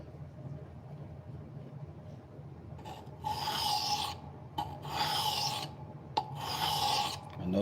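Kitchen knife sharpened on a stone during polishing, heard as repeated close raspy scraping strokes in long back-and-forth passes after a quiet start, with one sharp click between strokes and no talk.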